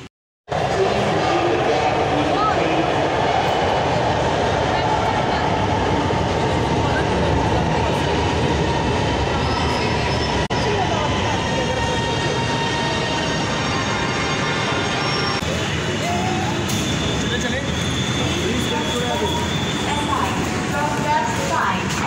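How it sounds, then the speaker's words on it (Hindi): Riding inside the Lahore Orange Line metro train, a loud, steady rumble and rattle of the carriage continues throughout, with faint squeals and people talking underneath. "तो ट्रेन में हम बैठ चुके हैं"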